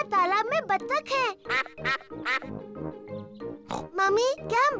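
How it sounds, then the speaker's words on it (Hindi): Cartoonish duck quacks from a pond in a Peppa Pig cartoon dubbed in Hindi, mixed with animated voices and music, several short bright calls rising over busy chatter. "देखो, वहाँ तालाब में बत्तख है।"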